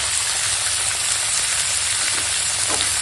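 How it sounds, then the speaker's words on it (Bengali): Vegetables fry with onion in an oiled pan, a loud, dense, continuous sizzling hiss close up, with no voices. "এই সবজিটা দিয়ে দিলাম দিয়ে একটু ভালো করে ভেজে দেবো"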